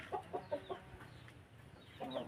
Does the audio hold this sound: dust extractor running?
no